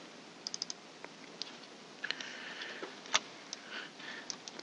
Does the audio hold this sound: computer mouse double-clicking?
yes